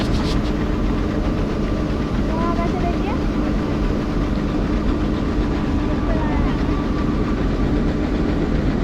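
A tractor engine drones loud and steady as it moves alongside a wheat harvester during harvest, with someone talking over the constant rumble.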